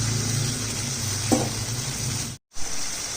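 Water hits a frying pan of vegetarian taro curry, setting off a dense, loud sizzle with a brief splash and a momentary cut-out before the hissing resumes.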